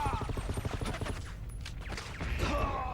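Pistol gunfire in a Battlefield 2 match on PS2, a fast burst of sharp shots at the start that thins into scattered reports, with voices under the action.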